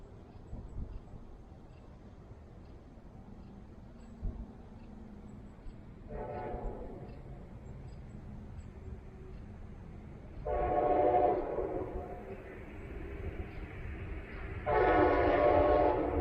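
A Brightline high-speed test train runs near 110 mph after dark at Suntree Boulevard in Brevard County, sounding three horn blasts, each longer and louder than the last, over a faint, steady rumble.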